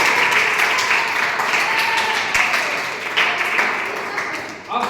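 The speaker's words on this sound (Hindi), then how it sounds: "बिल्कुल सही जवाब जोरदार ताली हो जाए" Studio audience applause greets a correct answer on a classroom-style quiz show with a Class 7 student contestant, a sustained dense clapping wash that fades slightly toward the end.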